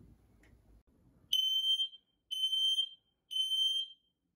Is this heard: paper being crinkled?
no